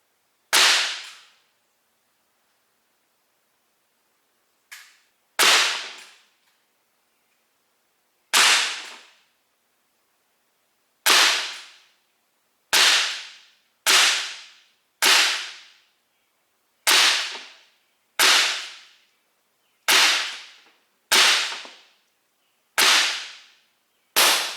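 A Gamo P-23 CO2 .177 pellet pistol fires about twelve sharp, close cracking shots, each decaying quickly. The first shots come a few seconds apart and the later ones come faster and more regularly, with silence between them.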